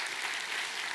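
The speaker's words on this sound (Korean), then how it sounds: "우리 하나님께 감사와 영광의 박수 올려드리겠습니다" Dense, even applause from a church congregation during a Sunday service, a brief continuous wash of clapping.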